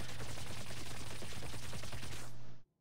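Spider-Gwen's Suppressing Fire ability in the Marvel Heroes game lets loose a dense, continuous stream of rapid gunfire, loud and steady for about two and a half seconds before it cuts off sharply.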